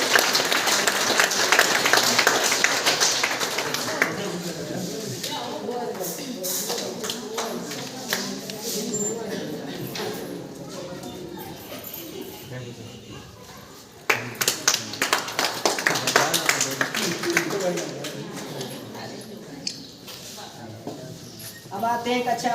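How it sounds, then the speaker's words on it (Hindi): Audience clapping at a village school parents' meeting, a loose, sustained round of applause with a louder burst partway through, mixed with crowd chatter and a voice over it. "तो इस बच्ची के लिए एक बार जोरदार ताली।"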